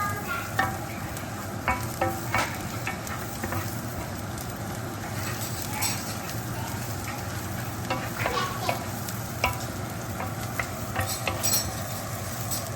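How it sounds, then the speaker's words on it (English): Garlic fries in a pan while being stirred, a constant close sizzle broken by regular soft scrapes and clinks of a utensil against the pan, with no talking. "Now I'm going to add in all my garlic. Just give that a stir."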